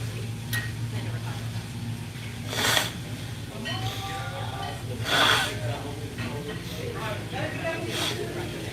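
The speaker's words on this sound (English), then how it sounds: "Let me blow my nose" Two loud, breathy nose blows burst out close to the mic a few seconds apart, over a low steady hum and faint background noise.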